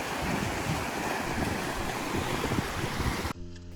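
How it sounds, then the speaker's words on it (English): Sea surf washes against a Spanish coastline in a continuous loud, rushing wash with wind buffeting the microphone. It ends in an abrupt cut near the end. "The sea."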